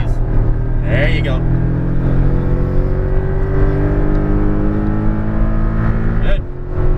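Porsche Cayman GTS engine droning steadily at speed on a race track, with a continuous close engine tone and a brief dip near the end, while an instructor talks over it.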